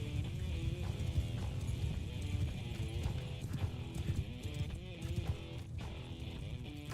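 Cavalry horses gallop in the Mount & Blade II: Bannerlord video game, a steady stream of close hoofbeat clip-clop with a brief whinny amid busy battle ambience.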